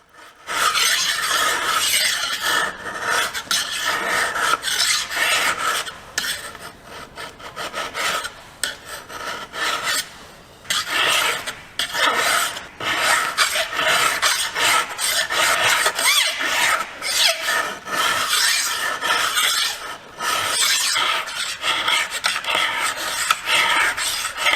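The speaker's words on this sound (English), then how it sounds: "Lots and lots of filing." Hand file rasping steadily along the bevels of a forged hunting knife blade, long repeated strokes with brief pauses, close and loud with no talking.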